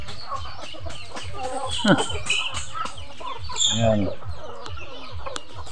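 Pet chickens cluck and peck while being fed, with soft, irregular clucks and small vocal bursts close by. A person speaks briefly between the clucks.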